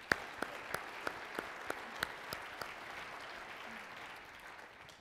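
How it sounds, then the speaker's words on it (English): Keynote audience applauding at a chairman's remarks event, a steady wash of clapping from the crowd with a few sharp individual claps standing out early, then fading gradually toward the end. "Let's give him one more round of applause"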